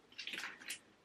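Hands squeeze excess water from wet curly hair, making a faint, brief squelch with a soft wet trickle lasting about a second.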